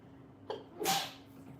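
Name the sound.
sneeze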